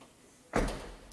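A car door being shut during paintless dent repair work, a single solid thump after a quiet moment, followed by a short fading rattle, with no voices.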